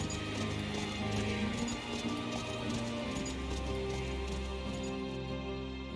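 Steady clip-clop of horse hooves ridden along in Octopath Traveler 2, a continuous rhythmic trot heard over a dense, sustained game music backdrop at moderate loudness.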